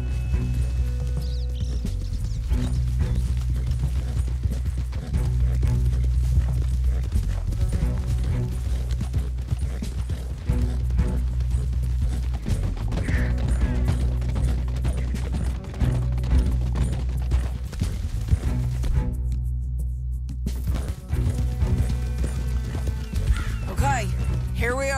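Horses thunder along at a gallop in Red Dead Redemption 2, a steady dense clip-clop of hooves with an occasional whinny, continuous and fairly loud under game dialogue and a music bed.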